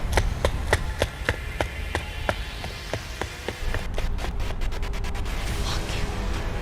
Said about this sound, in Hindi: ये उसके भागने की आवाज है।